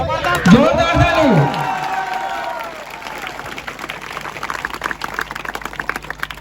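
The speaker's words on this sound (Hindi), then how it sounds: "जोरदार ताली" An audience at a social gathering in Mahasamund, Nartori, breaks into applause after a loud voice rings out at the start; scattered clapping and crowd noise fade gradually to a thinner patter.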